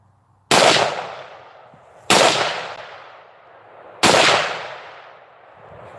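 Three loud, close AR-15 rifle shots fired outdoors on rural land, evenly spaced about two seconds apart, each sharp crack trailing off into a long echoing decay.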